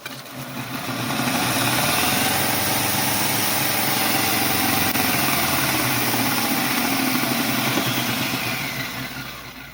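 A homemade belt grinder spins up and runs steadily with a continuous motor hum and belt whir, close and fairly loud, then begins to wind down near the end, with no talk.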